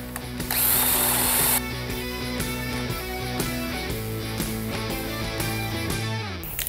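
Power drill boring dowel holes into wood with a half-inch bit for a bathroom cabinet, a loud continuous whirring drone with shifting pitch, a brief harsh burst early on, no speech.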